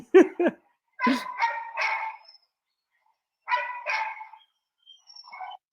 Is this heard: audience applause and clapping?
no